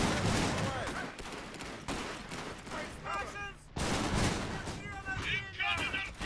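Iron Harvest battle din of artillery and gunfire, with dense overlapping shots and booming impacts in repeated waves, while in-game unit voices call out over the fighting.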